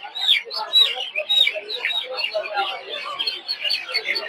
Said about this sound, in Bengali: দেখতে পাচ্ছেন এই যে হচ্ছে টাইগার মুরগি বাচ্চা।